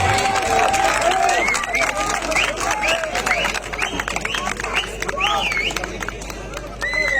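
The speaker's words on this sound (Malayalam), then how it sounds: "അത് കൈയടിച്ച് സ്വീകരിക്കും" Crowd at an outdoor tug-of-war match between two evenly matched teams, a dense roar of cheering and clapping running steadily under a loud, continuous announcer's voice.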